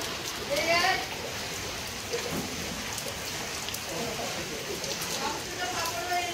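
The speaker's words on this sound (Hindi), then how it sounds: "भाई बारिश इतना गिर गया, देखो पानी पानी फुल पानी।" Heavy rain pours steadily outdoors, a dense even hiss of drops hitting the ground and surfaces close by, with a few brief louder patters along the way.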